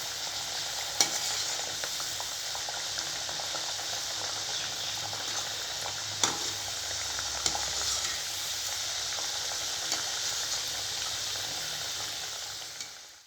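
Crescent-shaped caramel sweets frying in hot oil, a steady broadband sizzle with occasional sharp pops, continuous and close, with no voices.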